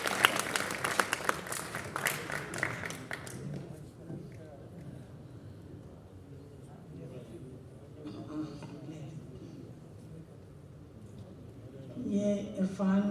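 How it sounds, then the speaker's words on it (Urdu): Applause from an audience at a poetry gathering in a Nehru Centre hall, loud at first with dense clapping, then thinning into scattered claps and crowd murmur before swelling slightly again near the end. "تالیاں بجا دیں"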